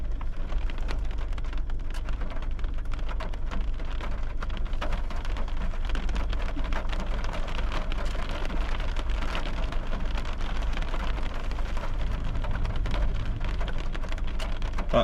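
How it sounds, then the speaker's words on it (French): Steady, dense patter of hail striking surfaces during a thunderstorm, continuous and fairly loud with no voices. "c'est de la grêle là-dedans"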